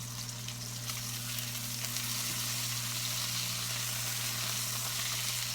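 Steak sizzling loudly in a frying pan just after being turned, a dense, continuous close hiss and crackle over a steady low hum, with no talking.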